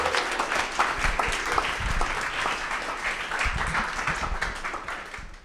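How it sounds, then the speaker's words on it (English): An audience at an evening school event breaks into sustained applause, a dense wash of many hands clapping that carries steadily and fades slightly toward the end. "Let's give her a round of applause."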